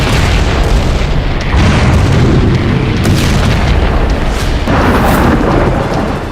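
Heavy bombing in West Bank areas near Jerusalem: loud, continuous deep booms and rumbling blasts, with a sharper burst arriving near the end and no voices.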